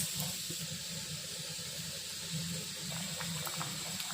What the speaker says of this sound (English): Added cooked vegetables, allow it to boil for a couple of minutes.